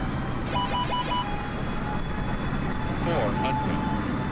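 Boeing 747 jet airliner landing in bad weather during an emergency, a steady loud cabin engine roar throughout, with faint chimes and short electronic tones over it.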